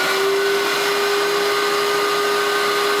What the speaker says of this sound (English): The cleaner needs a little bit more serious of a vacuum than the initial steam step did.